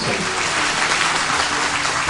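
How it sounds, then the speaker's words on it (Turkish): Warm audience applause at an open-air Ramadan talk gathering in a town square, a continuous dense wash of clapping that stays loud and even for the whole stretch, with no talking. "Sizlere kocaman bir alkış bekliyoruz."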